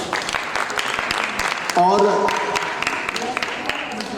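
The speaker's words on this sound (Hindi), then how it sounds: "हृदय से अभिवादन, तालियों के साथ अभिनंदन" Audience applause at a classical dance festival's closing ceremony, scattered claps in a hall with a host's voice speaking over it and a brief tonal sound midway.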